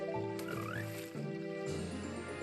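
Frogs croak in The Legend of Zelda: Ocarina of Time 3D, a steady loud game sound with a rising warbling call and shifting croaking tones under music-like harmonics.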